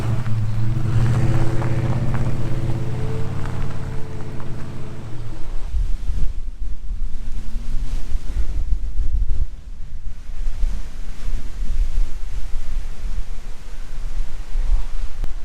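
Steady, heavy wind roars and buffets the microphone throughout, with a low rumbling hum in the first few seconds.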